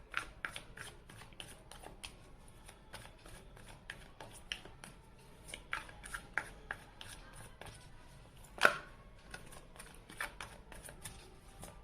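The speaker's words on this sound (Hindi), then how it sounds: "चलिए कार्ड शफल करते हैं" A deck of tarot cards is shuffled, giving soft rapid riffles and light taps with one sharper snap near the end. The sound is quiet, close and irregular, with no talk.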